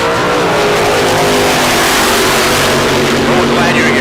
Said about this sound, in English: Steve Rohrsch in the Camaro going to get the win